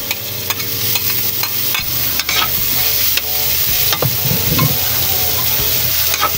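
Onion and tomato sautéing in a pan for pinakbet, with a steady loud sizzle broken by several sharp clicks and scrapes as the spoon stirs, and no talk.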